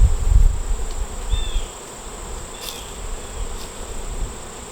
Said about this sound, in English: we'll let the bees make their way into the hive